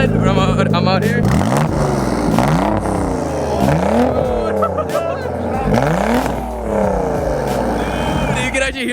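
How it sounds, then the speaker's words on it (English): Loud, close twin-turbo Nissan 300ZX engine revving in several rising sweeps, with turbo whine and a harsh straight-pipe exhaust note; people talk over the noise. "you can actually hear like the turbo"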